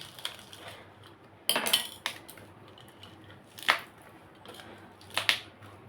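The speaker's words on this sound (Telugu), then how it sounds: "ఒక 6 పచ్చిమిరకాయలు వేస్తున్నాను. ఇవి కూడా 2 ముక్కల కింద చేసేద్దాం" A knife slices green chilies on a cutting board in a home kitchen, several separate sharp taps and clicks spaced irregularly against quiet, with no talking.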